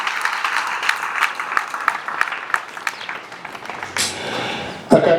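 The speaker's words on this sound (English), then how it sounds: "Can you give a clap to yourself?" Students applauding during a university speech, with scattered, uneven claps under a murmuring crowd and a sharp louder burst near the end.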